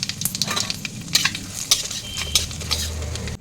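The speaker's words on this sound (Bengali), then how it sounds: "মশলাটা ভাজা ভাজা হয়ে গেছে" Whole spices fry in hot oil in a pan: black cumin, cumin, dried red chillies, cinnamon and four cardamom pods. A crackling sizzle sits under frequent metallic clinks and scrapes of a spoon stirring.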